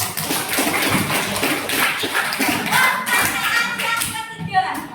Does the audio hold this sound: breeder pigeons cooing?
no